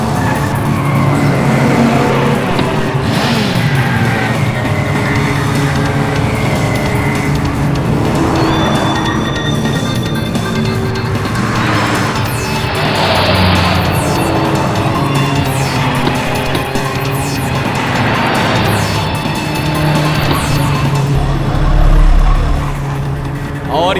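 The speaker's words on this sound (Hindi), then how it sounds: "ये देखिए, गाड़ी नंबर 5 सबसे आगे जाते हुए" Race cars in a televised circuit race roar past, engines revving and tires squealing with a few rising whooshes as they pass, loud and continuous, with commentary running over the top.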